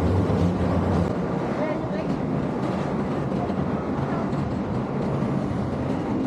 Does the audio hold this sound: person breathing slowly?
no